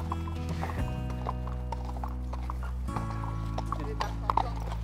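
Horses' hooves clip-clopping on a hard surface at a stable, irregular close steps with occasional snorts under faint background murmur.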